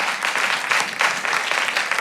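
An audience applauds a singer at a televised singing contest, a dense burst of clapping that starts at once and stays steady and close.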